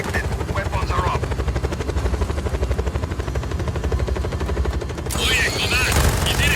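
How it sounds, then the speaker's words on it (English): A helicopter in Just Cause 4 thumps with a steady, loud rotor chop, mixed with bursts of machine-gun fire and a brief voice. "Oye, command, he's in a helicopter."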